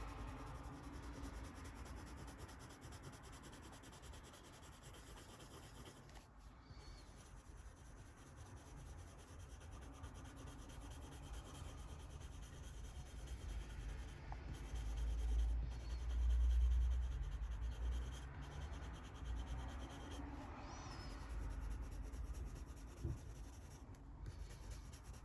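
Coloured pencil, a Tombow Irojiten, scratching steadily across paper under hard pressure while drawing an Asian elephant, a continuous close rasping rub with short pauses and swelling strokes.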